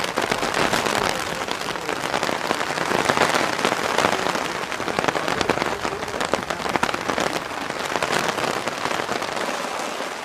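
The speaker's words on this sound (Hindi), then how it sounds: "बारिश को देखते हैं।" Steady, dense rain patters on surfaces, an even, close hiss of countless drops that carries on without a break and with no voices.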